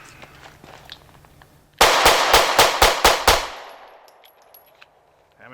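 A Smith & Wesson M&P Shield 9mm pistol fired in a rapid string of about seven loud, sharp gunshots, close by, followed by fading echo and quiet.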